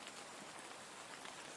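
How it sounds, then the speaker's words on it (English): Steady rain falls outdoors, a soft, even patter of drops on surfaces that continues without a break and stays fairly quiet. "the rain is just kind of nice right now"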